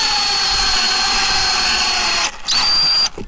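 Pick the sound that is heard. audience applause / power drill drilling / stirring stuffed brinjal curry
power drill drilling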